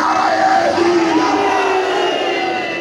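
A crowd at a religious gathering calls out slogans together in reply to a preacher, a loud sustained mass of voices with rising and falling shouted tones filling the whole stretch.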